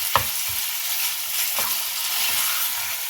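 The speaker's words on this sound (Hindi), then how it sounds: "अब कीमे को इसके अंदर फ्राई कर लें।" Chicken mince, about 400 grams, frying in a pan for aloo chicken tikka kababs, giving a steady close sizzle with a few brief clinks and scrapes of a spoon stirring near the start and middle.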